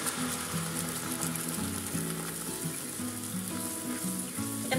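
Carrot paste dropping into melted ghee in a pan over low gas heat, giving a steady, close sizzle with bright crackling hiss throughout and no talk.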